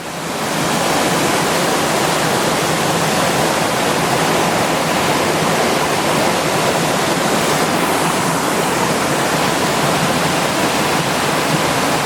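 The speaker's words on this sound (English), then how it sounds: "a really pretty little waterfall, only 3-4 meters high" A small rainforest waterfall about 3-4 metres high, a loud continuous rushing roar of falling water heard up close, steady throughout with no voices.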